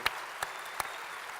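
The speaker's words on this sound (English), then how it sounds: "let's give Chazz a big round of applause" Applause from an audience for actor Chazz Palminteri at a season launch event, a steady wash of clapping with a few louder, sharper claps popping out near the start and middle.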